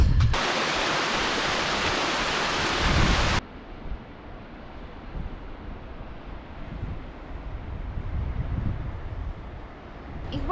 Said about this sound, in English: probably hear the river behind me. It's a bit of a beast.